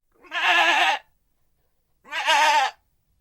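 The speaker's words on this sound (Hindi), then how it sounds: "अरे वाह, ये तो बकरी की आवाज है।" A goat in a cartoon comedy bleats twice, two loud, clear, wavering cries about a second apart with silence between.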